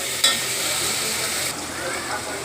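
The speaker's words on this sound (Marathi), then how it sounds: "त्याच्यानंतर थोडंसं तेल सुटेपर्यंत मसाले भाजून घ्यायचे" Garlic-ginger paste, turmeric and garam masala sizzle in hot oil for matki khichdi, a steady close frying hiss that holds for a couple of seconds after a brief sharp burst.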